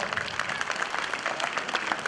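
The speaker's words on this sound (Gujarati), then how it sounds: "તાળીઓથી વધાવીએ." An audience applauds at a Patel Samaj community opening ceremony as families are honoured. The clapping is a dense, fairly even patter from many hands, steady for a couple of seconds.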